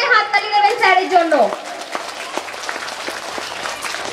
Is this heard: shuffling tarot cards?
no